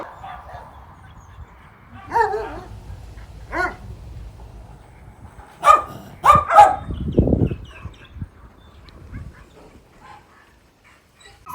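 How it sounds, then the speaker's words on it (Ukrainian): Dogs at an animal shelter in Myrnohrad give a few scattered barks and yips, then a loud close cluster of barks followed by a whimpering growl, with room noise between. "Старіша собачка."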